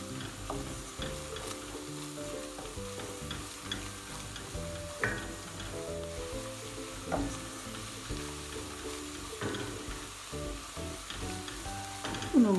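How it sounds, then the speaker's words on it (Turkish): Flour being dry-roasted with sautéed onions in a pan for ezogelin soup, a soft continuous sizzle with scattered scraping stir clicks, fairly quiet and steady throughout. "Unun kokusu çıkana kadar 1-2 dakikada böyle kavuruyoruz."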